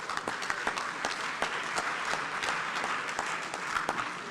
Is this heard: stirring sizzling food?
no